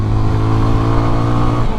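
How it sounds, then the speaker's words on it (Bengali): A GPX Demon GR165RR motorcycle is ridden along a highway near the Bhanga roundabout, heading from Faridpur toward the Padma Bridge. Its engine drones loud and steady with a rich harmonic hum throughout, and no one speaks. "আর রাইট নাও আমি রাইড করতেছি জিপিএক্স ডিমন"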